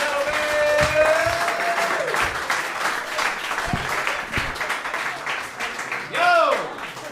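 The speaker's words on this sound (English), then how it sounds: "Give him a round of applause, ladies and gentlemen." Audience applause at a roast battle comedy event in New York fills the room steadily, with cheers and shouted voices mixed into the clapping throughout.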